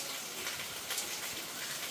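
Heavy rain falls outside after a month of almost no rain, heard as a steady, fairly faint broadband hiss with no voices.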